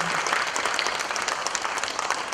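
Sustained audience applause at a Gaya Opera event, a steady, dense clapping from a full crowd filling the whole stretch with even loudness.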